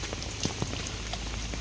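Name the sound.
rain falling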